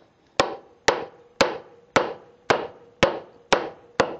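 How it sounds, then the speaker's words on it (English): Eight evenly spaced, sharp hammer strikes driving nails into wood during garage table and shelf building, each blow ringing briefly before the next, loud and close with no talk. "I should probably hammer that in a little"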